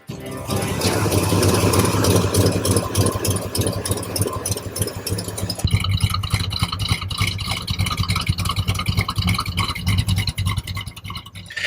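A naturally aspirated V8 muscle car engine idles with a steady, throbbing low rumble and rapid pulsing beats, continuous and close throughout, its tone shifting slightly midway.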